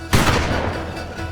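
A rifle fires in a dubbed drama scene: one sharp, loud blast that rings out and fades into a long rumbling decay.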